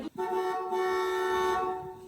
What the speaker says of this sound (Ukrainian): Це мені сигналять.